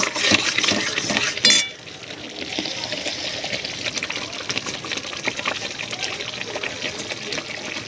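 Poppy seed paste for fish curry being stirred and fried in oil in a pan, a continuous close sizzling hiss with scraping and stirring, a louder burst early on.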